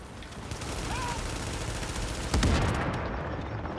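Gunfire in Tom Clancy's The Division: a dense, continuous stream of rapid shots under game noise, with one heavier, louder burst partway through.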